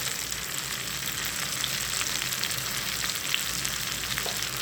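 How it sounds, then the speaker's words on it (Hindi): Tomatoes and green chillies sizzle in a hot pan for egg ghotala, a steady, close frying hiss with faint stirring clicks and no talking. "एक मिनट पका लेंगे टमाटर को भी और सब्ज़ मिर्च को भी"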